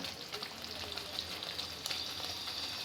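Continuous crackling sizzle of spices frying in a hot pan for prawn malai curry, close up and steady, with no voices.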